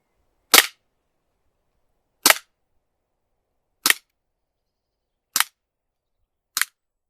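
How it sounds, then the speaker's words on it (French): Five sharp, loud reports from a Glock 17 WE airsoft pistol test-fired at 5 metres, evenly spaced about one and a half seconds apart with silence between shots. "Test de tir du Glock 17 WE 5 mètres."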